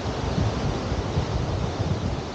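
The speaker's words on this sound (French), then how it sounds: "Là, le vent, il souffle bien aussi de nouveau." Wind blows at the pool of the Mar Azul campsite in Balerma, a steady, soft, broadband rush with low gusting rumble and no voices.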